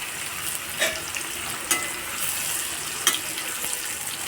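Large rani fish frying in a pan over high heat gives a continuous bright hiss and sizzle, broken by a few sharp pops and clicks of the pan, with no talking.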